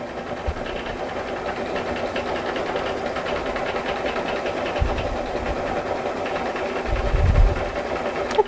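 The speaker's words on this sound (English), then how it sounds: "lower the presser foot, press start, and it's going to start stitching for me" A single-needle embroidery machine stitches a design with a steady, fairly quiet mechanical hum and a rapid rhythmic ticking, joined by occasional low thumps.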